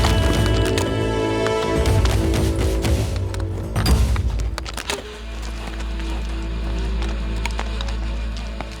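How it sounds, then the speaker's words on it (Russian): Kyrgyz horses climb a steep slope of loose, rocky stone on a mountain hunting trip, their hooves clopping and scraping in a dense, busy clatter that settles into a lower rumble partway through. "Киргизские лошади отлично справляются с крутыми подъемами."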